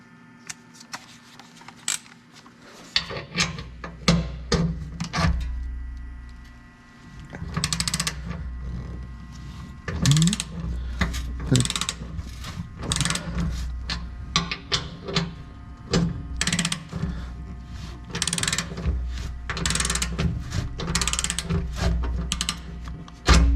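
Wrenching on the front skid plate bolts of a 2021 Nissan Titan Pro 4X, with repeated ratchet clicks and metallic clanks in uneven bursts, close by and fairly loud, with no talking.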